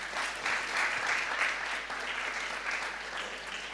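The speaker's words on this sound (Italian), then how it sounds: "Un applauso." Sustained audience applause welcoming graphic designer Marco Petrucci at the Holden Start 2023 event, a steady dense wash of many hands clapping at even loudness throughout, with no talking over it.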